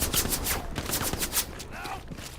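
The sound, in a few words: gunfire in video game Antistasi / Hell Let Loose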